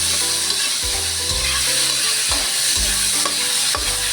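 Pinakbet vegetables sizzle and fry steadily in a hot pan, with repeated scraping stirs breaking through the crackle about every second; close and loud, no talk.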